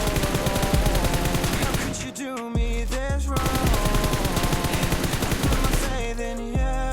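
Rapid gunfire from a shooting video game during an aim-training drill, dense bursts of automatic shots running almost continuously with brief pauses, loud and close with no talk.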